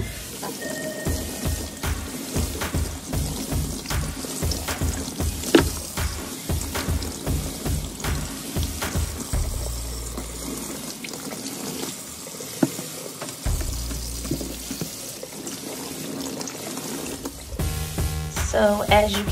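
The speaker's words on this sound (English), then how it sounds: "I'm going to take my brushes and I'm going to wash them off." Paint brushes washed under a running tap in a basement sink after gray and white paint touch-up work: steady splashing water with irregular brush swishes and a clatter near the end.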